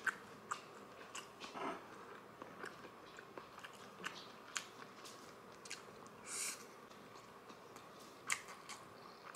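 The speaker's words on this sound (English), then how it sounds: "I'm going to eat rest of my short ribs" Spicy braised Korean short ribs (galbijjim) with rice cakes being eaten up close, soft irregular bites and wet chewing over a quiet room, faint throughout.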